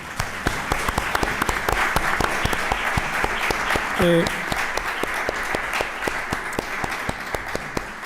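An audience applauds steadily at a book presentation, many hands clapping in a dense, sustained patter from start to finish.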